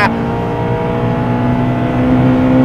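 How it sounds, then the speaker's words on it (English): A car engine revs hard while accelerating on a bumpy road, a loud, close, steadily climbing tone with a harmonic whine that holds for a few seconds, heard alone without talking. "this revs so much quicker than the S2000."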